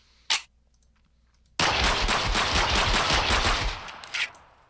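A P226 pistol fires in the Flan's Mod video game: one sharp shot, a brief pause, then a long loud burst of rapid gunfire and a final shot, with no talk.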